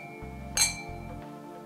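Wine glasses clink together in a toast during a Mosel wine tasting, one bright ringing chink that decays quickly over a low steady background hum.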